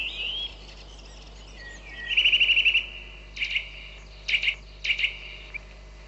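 Songbirds in the Monti Sibillini mountain park give clear, bright chirps and short rapid trills in separate bursts over quiet surroundings, with a faint insect-like hum underneath.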